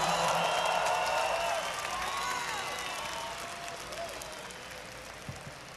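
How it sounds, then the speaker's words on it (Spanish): A rock concert audience at the Vive Latino festival in Mexico, 2009, applauds and cheers during band introductions. The dense crowd noise is loud at first, fades gradually, and is mixed with lingering stage tones. "Un aplauso fuerte para él."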